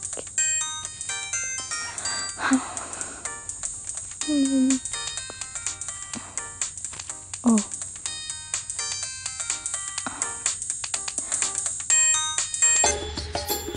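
Mobile phone ringtone playing after a call is dialed, a melodic, repeating electronic tune that runs throughout, with brief voices and background noises breaking in.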